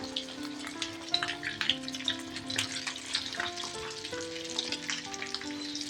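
Keema balls fry in oil over a low flame, a steady soft sizzle with scattered crackles and faint clinks, carrying on alone under a tonal background hum.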